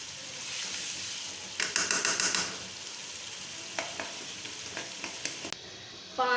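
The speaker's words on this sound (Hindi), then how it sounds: "मैं गोश्त को इसी तरह भून रही हूँ।" Mutton fries in a pot in a yogurt-based curry, a steady sizzle and hiss running throughout while a spoon stirs and scrapes, adding clustered clicks and scraping knocks.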